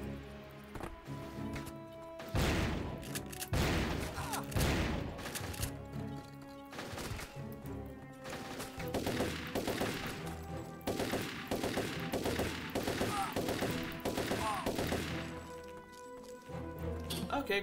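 Repeated shotgun blasts in the first-person shooter Turok 3, heavy booming shots spaced through a busy stretch of game sound, with a voice talking over parts of it.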